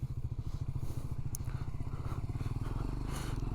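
A motorcycle engine runs steadily at a police checkpoint at Chushul in Ladakh, a loud, continuous rhythmic thump close by with no talk over it.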